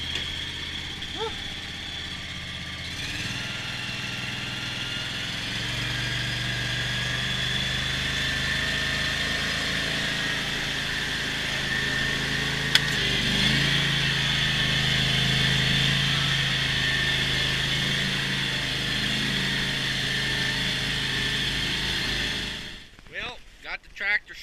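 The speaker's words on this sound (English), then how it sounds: "Well, got the tractor stuck again." A John Deere tractor engine runs steadily while clearing snow after a blizzard, a close continuous mid-pitched drone with a whining tone that revs slightly mid-clip, then stops abruptly near the end.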